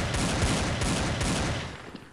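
Rapid pistol gunshots from the shooter video game Blood Strike, using the Desert Eagle-style pistol, crackle in a dense, fast burst at close range, tailing off toward the end with no talk over them.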